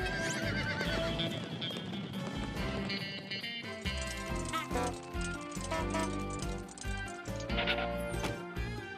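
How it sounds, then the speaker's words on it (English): A horse whinnies loudly while hooves clip-clop at a running pace, with busy music playing throughout in an educational English lesson. "The horses run."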